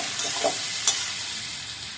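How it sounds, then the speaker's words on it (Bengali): Vegetable curry with black pepper stirred in a pan, a steady soft sizzle of frying with a couple of faint scrapes of the spoon. "ছেড়ে দিলাম সবগুলো, নেড়ে চেড়ে মিশিয়ে দিয়ে দিই।"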